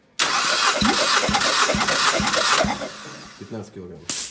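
A 1.8-litre Mazda L8 engine in a Mazda 6 is cranked by the starter during a compression test on the first cylinder, with a loud, even, rhythmic whirring of compression strokes that then winds down before someone speaks briefly.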